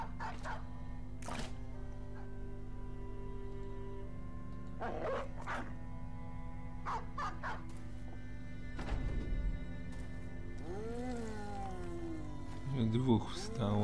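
Dogs barking in the video game Battle Brothers, a few short barks and yips scattered over a steady game soundtrack, with someone talking over them.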